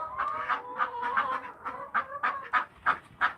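Young chickens and an old barred rock hen clucking steadily nearby on a farm, a busy overlapping run of short clucks and calls with no talking.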